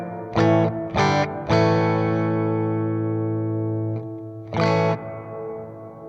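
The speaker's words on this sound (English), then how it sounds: "Next one is the church. This one should be even longer." Electric guitar chords play through a Sonicake Pocketmaster on its church reverb setting: three short strums, then a held chord ringing out in a long, smooth decay, and a final strum, clear and close.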